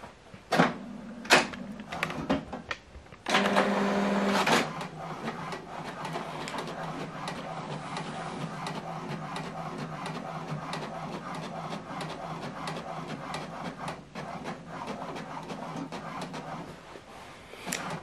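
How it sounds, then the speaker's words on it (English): An HP Deskjet All in One printer works through a document, opening with a few sharp mechanical clunks and a brief loud motor run, then a long steady chattering feed at moderate volume. "what it's telling us, the first set of documents is printing"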